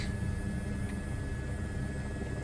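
A helicopter in Microsoft Flight Simulator 2024 drones steadily at close range, a dense continuous rotor and engine rumble with a faint high whine running through it, and no talk over it.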